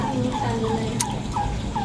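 A goose honks repeatedly, about five quick nasal calls in a row, fairly close, with steady outdoor noise behind.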